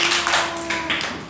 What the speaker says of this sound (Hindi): ताली बजाइए सब लोग।